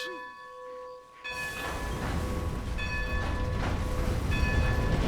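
Locomotive bell in a roleplay video game clangs in slow, regular strokes about every second and a half, ringing over the mounting hiss and rumble of a train easing out of the station.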